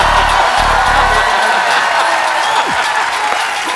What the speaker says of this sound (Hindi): इतनी तालियों से बंदा मरवा देना आप लोगों ने